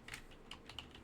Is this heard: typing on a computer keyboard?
yes